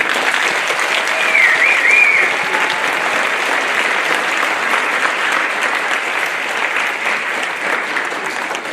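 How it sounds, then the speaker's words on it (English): A crowd gives sustained, loud applause for the graduating class at a senior final assembly. The clapping holds steady for about nine seconds with no voices over it. "Can we have one more round of applause"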